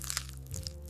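A cochinita pibil taco being bitten into, a short burst of crisp crunching at the start followed by quieter chewing, close and alone.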